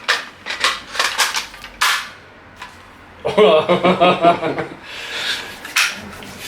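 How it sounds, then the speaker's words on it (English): A magazine is seated into an AGM StG 44 airsoft rifle with a wooden stock, a burst of close, sharp plastic-and-metal clicks and rattles after several bursts of nearby talk, with a few softer knocks following. "Insert the magazine."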